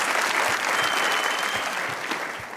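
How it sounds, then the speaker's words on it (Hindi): Studio audience claps steadily and loudly, a dense continuous patter of many hands with no voices over it, easing off slightly at the close. "तालियां बजाएं भाई"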